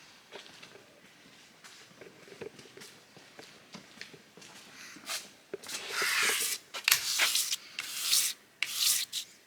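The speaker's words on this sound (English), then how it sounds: "So I'm going to go run this over the plate to get rid of any burr that occurred." A small-block Ford front cover is rubbed back and forth across a flat plate to remove burrs, starting as soft scrapes and growing into loud, rhythmic rasping strokes nearby.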